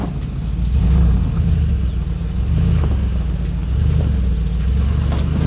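A Mercedes G-Wagon engine revs hard and loud during an off-road traction test, its deep rumble rising and falling in steady surges as the traction control works.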